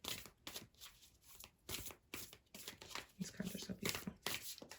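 Healing oracle cards are shuffled and riffled in quick soft bursts, close by, with a voice speaking in between the flicking.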